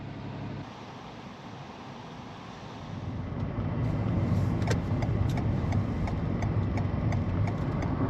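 A car drives along a road at night toward Edinburgh, its engine and tyre roar steady and then swelling louder partway through, with faint ticking clicks over the drone and no talking.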